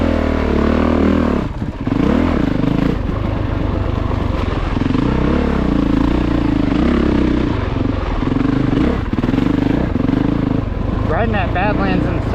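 A 2022 Honda CRF450RX dirt bike rides offroad through soft dirt and sand at a big Indiana offroad park, its engine droning loud and close throughout with throttle surges and dips, a rider's voice speaking over it.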